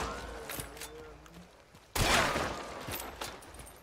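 Winfield C rifle firing at the Hunt: Showdown shooting range: a loud, close report strikes midway and its crackling echo carries on, with faint background chatter and smaller sounds in the first half.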